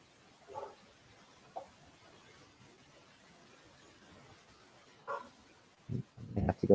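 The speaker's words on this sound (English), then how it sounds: "I hear him barking at me." A dog barks a few times from somewhere away from the microphone, scattered short yips over a quiet room, with a closer thump at the end.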